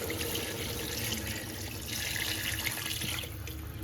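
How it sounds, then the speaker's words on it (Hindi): Water from a glass runs steadily into a cooking pot of chicken and bottle gourd soup, a continuous splashing rush lasting several seconds, close and moderately loud with no talking. "अब इसमें डालूँगी मैं पानी जो है मेरे पास 3 गिलास पानी है जो मैं इसमें डालूँगी"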